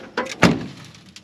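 A rusty 1967 Camaro door swinging shut with one loud metallic thud, preceded by a brief creak and scrape and followed by a faint rattle as loose rust and metal settle, heard close up without speech.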